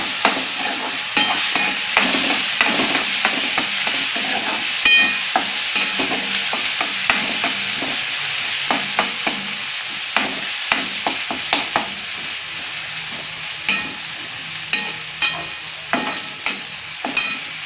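A spatula scrapes and clicks repeatedly through a cumin-powder masala in a hot pan for a chicken liver dish, with a bright, continuous sizzle beneath the close stirring strokes.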